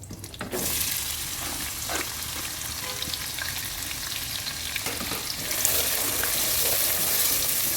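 Chopped onion frying in oil for an Arabic-style chili chicken dish, with a steady, loud sizzle and crackle throughout and occasional stirring scrapes, no voices.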